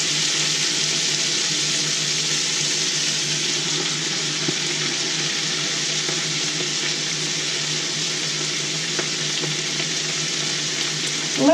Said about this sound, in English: I'm gonna fill this pot and then I'll start stirring.